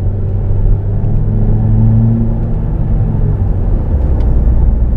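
A 2020 Mercedes-Benz V-Class van, weighing nearly three tonnes, accelerates under hard throttle with a loud, steady low engine rumble and drone that builds across the stretch.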